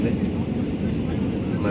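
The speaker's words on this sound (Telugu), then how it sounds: "మేఘాల పైకి వెళ్ళిందండి ఫ్లైట్." A steady, loud, broadband roar of airplane cabin noise fills a flight cruising above the clouds, with a faint voice underneath.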